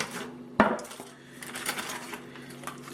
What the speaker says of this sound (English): I'm going to drain off this liquid off of all of these ribs